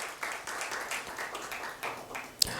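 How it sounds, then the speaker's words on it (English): An audience applauds at a healthcare conference panel discussion, moderately distant clapping that goes on steadily with a sharp snap near the end. "Can we have a huge round of applause"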